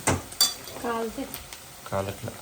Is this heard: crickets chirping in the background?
no